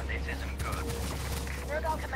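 Spaceship guns firing in rapid bursts in the VR space shooter Anshar 2: Hyperdrive, crackling over a steady low engine drone and game effects.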